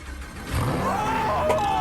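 A Lamborghini engine starting after being hit by a train, a short whir followed by a sustained mid-pitched engine hum with a rising whine, loud and near, with some voice underneath.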